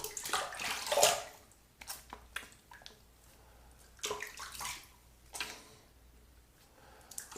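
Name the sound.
running tap water rinsing off shave soap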